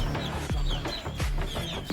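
A chicken clucks repeatedly in short, close bursts, with other fowl murmuring nearby and no talking.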